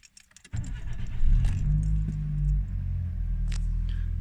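A 1990s-era Nissan Micra K11 engine starts after a brief key rattle, catching with a rumble and settling into a steady close idle.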